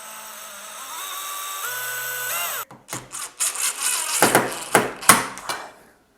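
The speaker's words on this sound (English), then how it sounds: "Hold that, I'll drill that" A power drill whines steadily, rising in pitch, then stops; a series of sharp bursts follows as the bit bites in, drilling a screw hole while installing iron balusters, close and fairly loud.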